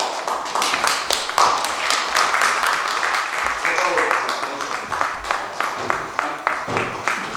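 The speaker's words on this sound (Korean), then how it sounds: "박수로 한번 우리 선교사님 감사합니다" Audience applause at a church mission seminar in New York, a burst of brisk clapping from a gathered congregation that runs steadily throughout, with voices talking over it.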